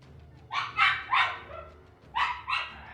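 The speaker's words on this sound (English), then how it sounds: "these are some very yappy beasts" Small dogs yap in quick bursts, two clusters of sharp, high barks close by with brief pauses between, over a low steady background hum.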